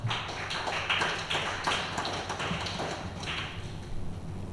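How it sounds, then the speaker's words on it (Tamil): A church congregation clapping their hands during a Sunday service, with a steady run of sharp claps at a moderate distance and a faint voice underneath. "உற்சாகமா கையை தட்டுங்க."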